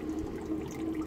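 Low, steady flow of water through the line of a diesel heater rigged as a hot tub heater, a continuous gentle rushing with a faint low hum, no pauses and no talk.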